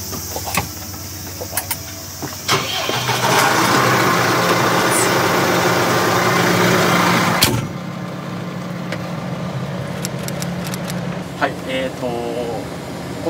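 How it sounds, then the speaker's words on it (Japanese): A New Holland T6.165 tractor with a continuously variable transmission runs at a steady, loud engine drone that cuts off sharply partway through, leaving quieter cab noise with clicks and a voice talking. "このトラクター T6-165 なんですけど、オートコマンドで、 まあ、無段変速のタイプになってます"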